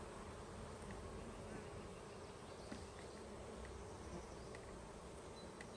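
Honey bees buzzing around a caught swarm's hive, a dense continuous drone heard close up and faint, with no talking.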